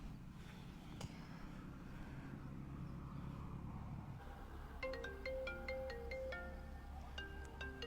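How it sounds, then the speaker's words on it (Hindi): A phone ringtone plays from inside someone's pocket, a bright repeating melodic tone starting partway through over a low background rumble, fairly faint and muffled. "ये रिंग की आवाज़ तो इसकी पॉकेट से आ रही है"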